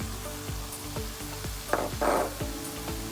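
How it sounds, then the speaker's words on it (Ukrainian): Mushrooms and bell pepper frying in a pan, a steady sizzle with a pulsing background rhythm, and two louder bursts of hiss near the end as food is stirred or added. "кидаємо нарізані печереці. обсмажуємо болгарський перчик"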